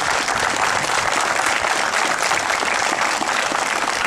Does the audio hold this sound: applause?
yes